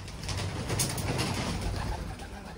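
Racing pigeons of German and Bulgarian lines coo in their loft, a steady low murmuring chorus over broad background noise, with no talking.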